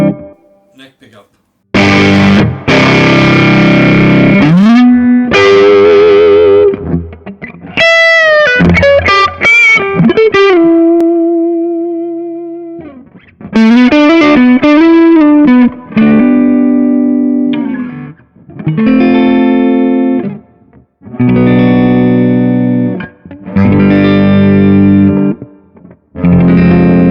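Electric guitar on the neck pickup through a Kemper Profiler's booster distortion, playing loud, heavily driven chords and sustained single notes with a few pauses between phrases.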